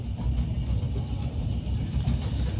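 Steady low rumble and rattle of the Kanchankanya Express rolling through a bend toward the Dooars, a continuous close-up drone from inside the moving train with no talk.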